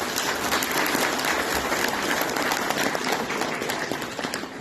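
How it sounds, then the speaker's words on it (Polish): Loud, sustained applause from a crowd at a county gala in Biała Podlaska, Poland, steady clapping throughout that tapers slightly toward the end. "Gorące brawa."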